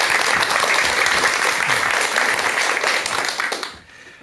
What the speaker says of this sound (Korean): 큰 박수와 함께 박사님의 강의 지금부터 청해 듣도록 하겠습니다.